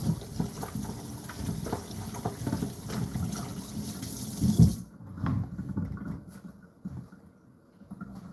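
Tap water runs steadily into a kitchen sink while food is rinsed during holiday cooking. The flow is close and moderately loud for about five seconds, then cuts off, leaving quieter handling noises.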